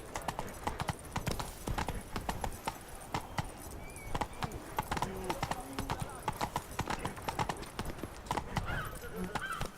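Rapid, steady hoof clip-clop from a horse ridden across ground in The Witcher 3, loud and close throughout, with scattered game voices and background sounds mixed in.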